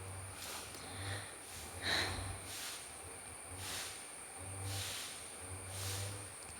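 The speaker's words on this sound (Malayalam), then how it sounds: "പിന്നെ കരിവേപ്പില, ഇത്ര ഇട്ടിട്ട് നമുക്ക് നന്നായിട്ടൊന്ന് വഴറ്റിയെടുക്കാം" Curry leaves sizzle in hot oil in a pan while being sautéed for a homestyle gooseberry pickle, a soft hiss rising and falling in waves with a low steady hum underneath and no talking.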